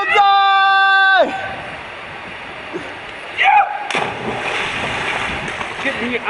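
A person drops from a dunk tank into the water with a sudden splash. Splashing and sloshing water follow after a tonal buzzer cuts off, and people talk nearby.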